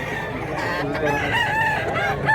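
An old rooster crows and clucks close by, several overlapping calls rising and falling without pause, with other fowl around.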